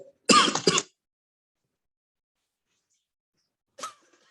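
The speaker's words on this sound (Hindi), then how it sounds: "लेक्चर शुरू होता है कि खांसी चालू होती है." A single sharp cough bursts out up close, followed by silence and then a brief second, quieter cough near the end.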